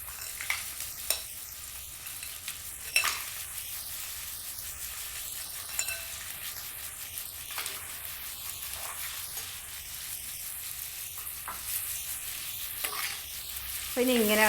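Crab frying in a pan with chilli powder and pepper powder, a steady soft sizzle broken by scattered scraping clicks as a spoon stirs it, close and quiet, with no talking.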